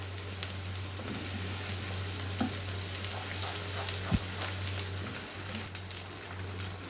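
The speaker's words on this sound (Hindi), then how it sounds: "दो मिनट तक हमने इसे भी फ्राई कर लिया" Egg and pea masala frying in a pan, a steady soft sizzle with occasional stirring scrapes and clinks, close and continuous with a low hum underneath.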